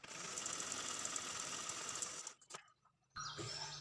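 A sewing machine stitches a lined blouse with a rapid, steady close whir that runs for about two seconds, cuts out briefly, then starts again.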